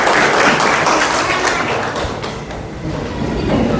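A school class applauds after singing a patriotic song, a dense burst of many hands clapping that thins slightly midway and then swells again, with no talk over it.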